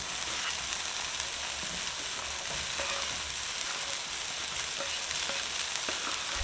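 Okra frying in oil in a pan gives a steady, dense sizzle with light crackles throughout, close and even, with no voices.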